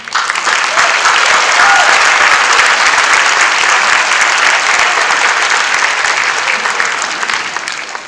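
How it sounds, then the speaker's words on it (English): Loud, dense audience applause at a governors' summit, an even wall of clapping sustained for about eight seconds before tapering slightly at the end. "we should give each one of you a round of applause for all of your hard work"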